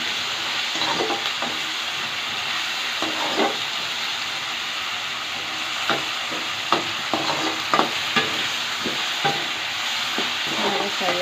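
Village-style drumstick curry ingredients frying in a pan, a steady close sizzle with scattered scraping and stirring knocks throughout.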